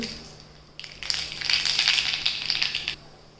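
Asafoetida and mustard seeds hit hot oil in a pan, bursting into a loud, close sizzle and crackle that swells for about two seconds and then dies back, with no talk.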